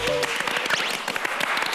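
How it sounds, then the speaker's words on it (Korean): A short burst of studio applause for a senior during a Korean talk show interview, brisk clapping from a small group close by with some talk over it. "자, 선배 박수"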